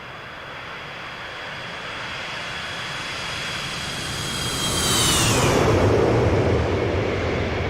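FlyJSim 727 jet engines spooling up for takeoff in X-Plane 11, a steady broadband roar with a rising whine that swells louder around the middle and stays strong to the end, no talk.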